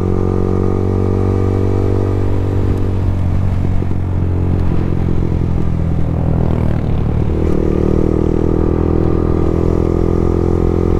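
A motorcycle engine drones steadily while riding a back road in Tanay in strong wind, with heavy wind rumble buffeting throughout and no one speaking.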